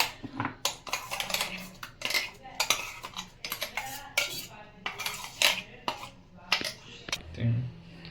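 A metal spoon scrapes and clinks against a mixer jar and bowl while garlic, onion and ginger paste is scooped out, a quick series of close, sharp clatters and taps with short pauses between.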